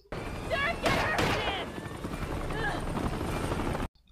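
A helicopter's steady rotor roar fills a scene from a Terminator film, with loud bursts of gunfire-like cracks early on and faint voices underneath, cutting off abruptly at the end.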